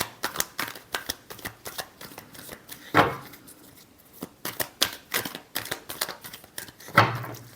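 A deck of tarot cards is shuffled in repeated quick riffling bursts, close and crisp, with short pauses between rounds and no talking.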